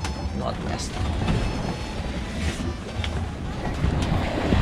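A sailboat beats against the wind off the northwest coast of Ibiza, with a steady roar of wind and rushing water and splashes from waves against the hull throughout.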